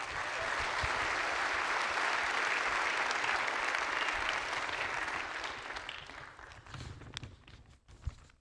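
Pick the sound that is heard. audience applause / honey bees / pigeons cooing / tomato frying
audience applause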